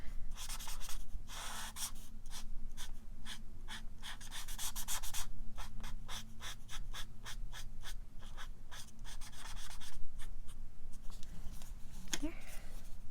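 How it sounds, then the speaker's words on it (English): Crayola colored pencils stroke across paper in steady, rhythmic scratchy passes, close and fairly loud, with brief pauses between bursts of coloring. "when you color with pencils, you can also hide that"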